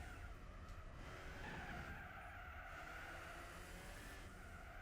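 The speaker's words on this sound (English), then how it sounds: "I might actually get some all-wheel drive sliding going on here" All-wheel-drive car sliding across tarmac in the Gran Turismo 4 video game, a steady loud tire skid and engine roar continuing without a break.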